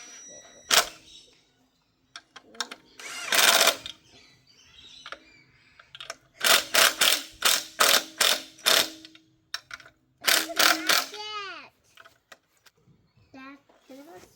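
Ratcheting torque wrench clicks on bolts of a race car clutch assembly, a close, loud series of sharp mechanical bursts in quick rhythmic runs, with a voice speaking between them.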